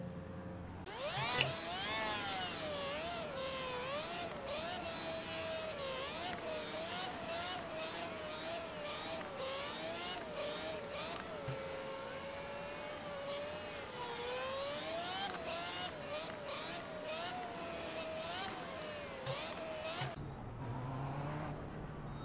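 A GT4 race car engine on a warm-up lap around Zandvoort in the iRacing simulator, a continuous whining drone that rises and falls through the gears, steady and close before cutting off near the end.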